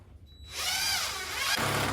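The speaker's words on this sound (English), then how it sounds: "I'm ready to start drilling these into the floor" A DeWalt drill drives screws into a kitchen subfloor of new plywood: quiet at first, then a loud whining burst that runs steadily for about a second and a half, dropping slightly in pitch near the end.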